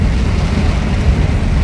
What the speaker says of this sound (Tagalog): Lakas na pala ng ulan na yun.